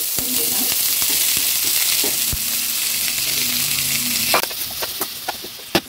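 Vegetables sizzle loudly in a little oil in a pan for a veg macaroni pasta, with a steady hiss and a few sharp scrapes and knocks of stirring near the end.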